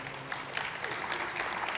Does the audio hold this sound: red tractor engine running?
no